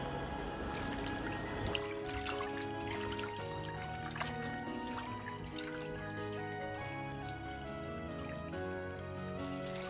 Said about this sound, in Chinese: 把水分挤干